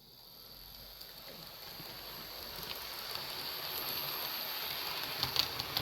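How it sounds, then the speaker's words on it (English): Metal wheels of an HO scale Athearn Genesis F unit model locomotive roll along track on an old Atlas 4x8 layout, making a faint, steady hiss that slowly grows louder, with no voices. "The only noise I'm hearing is the metal wheels on track."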